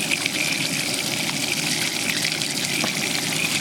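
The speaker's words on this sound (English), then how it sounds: "We have running water." Well water gushing steadily from a line after the pump is switched on, a continuous broadband rushing with a faint underlying hum, close and alone without talk.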